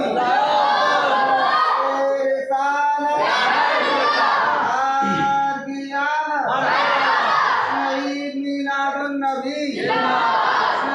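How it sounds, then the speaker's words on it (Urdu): A large crowd at a religious talk shouts a slogan in loud, repeated bursts of massed voices, rising and falling in several waves. "ارے نعرہ لگائیے، تھوڑا چھوٹا سا ایک نعرہ لگائیے"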